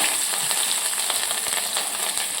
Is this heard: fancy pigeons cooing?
no